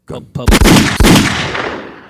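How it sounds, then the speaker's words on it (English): Loud gunshot sound effects played on a podcast, a quick burst of several sharp reports followed by a long ringing decay, with no talking. "Gunshots."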